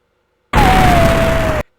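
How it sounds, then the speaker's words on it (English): An explosion sound effect, heard alone: a sudden loud burst that holds as a roaring blast for about a second with a faint falling whine over it, then stops dead. "Explosion."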